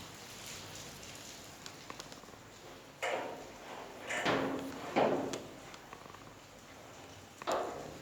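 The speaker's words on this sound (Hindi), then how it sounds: "दरवाजे को कुंडी लगा दो," A door being bolted with its latch and then locked, heard as several close metallic clunks and scraping slides spread over a few seconds, separated by quiet pauses, with no talking.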